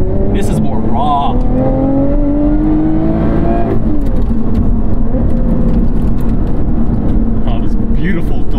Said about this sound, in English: Oh, this beautiful, delicious downshifts, baby!